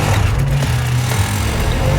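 A small Bajaj Qute quadricycle launches from a drag race start, its engine droning loud and steady at close range without a break.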